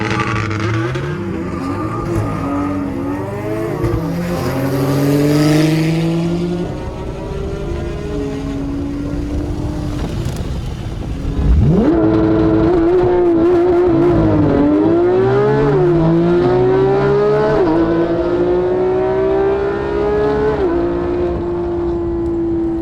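A modified Toyota Supra tuned to about 800 hp drag races a Porsche GT2RS and GT3RS; loud, close engines rev and accelerate hard through repeated rising gear-change sweeps, one car's tone pulling in strongly about halfway through, with no talking.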